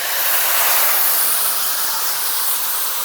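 Boiled pumpkin poured with its cooking water into a hot pan of fried spices for a Bengali pumpkin and potato curry, giving a loud, steady steamy sizzle and hiss that holds for the whole span with no voices.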